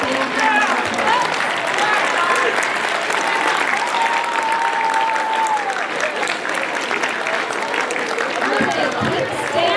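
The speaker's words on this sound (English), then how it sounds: "And let's give every speech and debate a big round of applause." Audience at a speech and debate tournament giving a sustained round of applause, dense steady clapping with scattered cheers, loud and continuous for the whole stretch.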